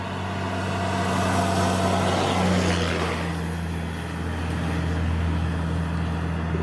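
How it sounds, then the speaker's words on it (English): Heavy vehicles roll past on a road, a broad rumble that swells to a peak midway and then eases back, with a steady low engine drone beneath and no talking. "You're going to hear some trucks go by"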